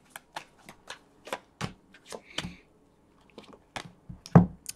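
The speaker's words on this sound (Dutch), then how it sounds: "Ik zal de kaarten schudden om te kijken wat deze week voor de Kreeft gaat brengen." A deck of tarot cards is shuffled in uneven bursts of quick crisp flicks and riffles, close and fairly quiet, with short pauses and a louder slap near the end.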